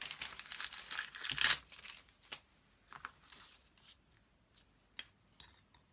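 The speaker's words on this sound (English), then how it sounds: "I'm going to tear my page off because it's all mixed up" Paper being torn from a junk journal page, a burst of crinkling and ripping in the first second and a half, followed by softer scattered rustles and small taps.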